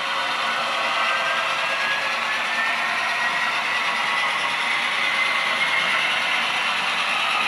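Three Kato N gauge model locomotives with DCC sound run together on a single loop layout, giving a continuous bright mechanical whir and ticking at steady volume with no talk.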